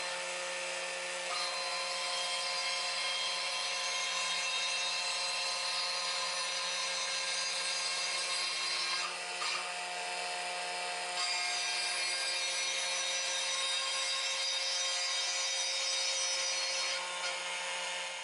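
CNC router skimming the surface of a rosewood box with brass inlay, a steady, even cutting and rubbing whine held at constant loudness throughout, with no talk.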